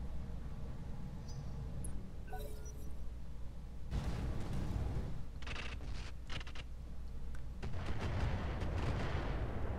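Mech weapons fire in a Roguetech battle, with heavy booming blasts and bursts of crackling gunfire coming in waves over a constant low rumble.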